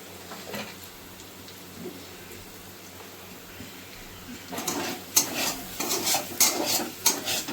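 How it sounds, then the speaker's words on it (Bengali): Ghee goes into a hot pan for chili garlic chicken fried rice, bringing a soft hiss that swells into louder sizzling, with scraping, clattering stirring strokes toward the end. "এবার আমি এটাতে একটু ঘি দিয়ে দেবো।"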